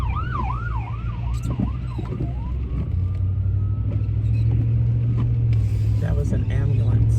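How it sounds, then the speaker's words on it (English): An ambulance siren passes on a rainy street, its wailing tone sweeping up and down for a few seconds and then fading away, heard from inside a car over a steady engine hum. "That was an ambulance."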